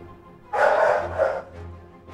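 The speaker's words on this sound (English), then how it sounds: "And the dogs are barking." Dogs bark close by, one sharp drawn-out bark followed by a couple of shorter yips, loud and with no talking.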